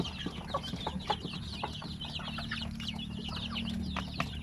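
Chickens and newly hatched chicks in a coop cluck and cheep close by, with rapid overlapping high peeps over lower hen clucks in a busy, continuous chorus.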